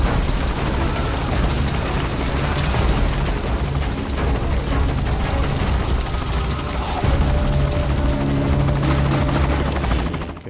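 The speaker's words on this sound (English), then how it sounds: "That is not our helicopter, that's actually an enemy" An enemy helicopter in the Metal Gear Solid 5: The Phantom Pain video game gives off a heavy, continuous rotor drone under booming, rumbling game noise, loud and sustained for the whole stretch.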